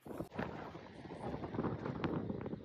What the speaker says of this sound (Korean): 바람이 너무 불어가지고 바람 소리만 많이 들어갈 것 같은데